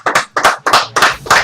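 Handclaps for Akash Thakkar during a live show: five quick, evenly spaced claps, close and crisp, with nothing else heard.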